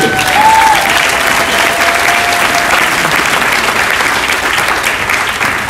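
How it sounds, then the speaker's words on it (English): Loud, sustained applause from a large audience fills the whole stretch, steady and enthusiastic without letting up. "give these guys a big round of applause"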